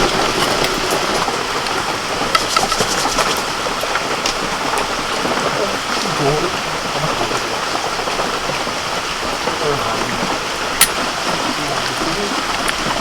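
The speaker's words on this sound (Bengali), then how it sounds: "বৃষ্টি পড়ছে" Steady rain pours down, a dense continuous hiss of drops on surfaces with an occasional louder splash.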